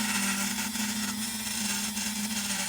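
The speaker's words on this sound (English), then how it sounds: "ports have been raised to the lines, as well as re-angling the tunnels for flow" Rotary power tool grinding the ports of a two-stroke cylinder, a steady high-speed whine with a strong sustained hum, close and continuous for a few seconds.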